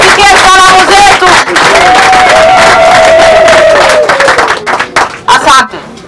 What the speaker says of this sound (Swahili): Tumpigie makofi na salamu.